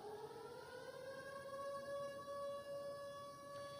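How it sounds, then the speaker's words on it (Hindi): Civil defense siren sounding at Jammu airport, a steady wailing tone with rising pitch and harmonics, continuous and somewhat distant throughout. "जम्मू एयरपोर्ट पर सायरन बजा"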